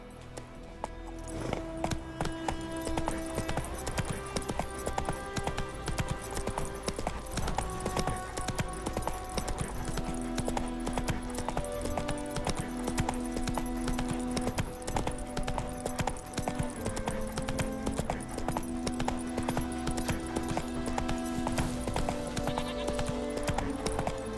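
Horse hooves clip-clopping at a steady rhythmic trot in the video game The Witcher 3, continuous and close, layered with background game music throughout.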